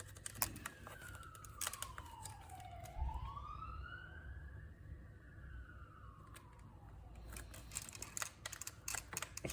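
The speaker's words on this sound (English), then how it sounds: "of course, an ambulance has to go past" A passing ambulance siren wails in the distance, a single long sweeping tone that falls and rises, under close clicking and tapping from ear pads being fitted to a headset.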